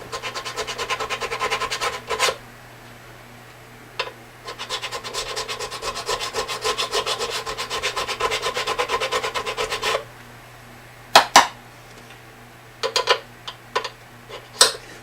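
Rhythmic rasping strokes of a metal file leveling the frets of a Martin 000-28 guitar, steady back-and-forth filing for several seconds, then a few sharp taps and short scrapes.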